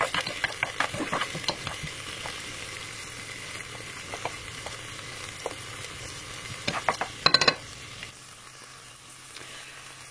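Onion and shallot fry in a pan with a steady background sizzle, broken by several sharp clinks and scrapes of stirring, the busiest cluster just past the middle, then the noise drops to a quieter hiss near the end.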